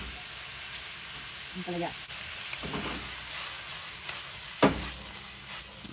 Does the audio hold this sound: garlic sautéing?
yes